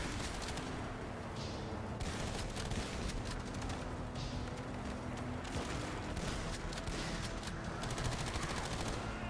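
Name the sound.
gunfire in the video game Toxic Commando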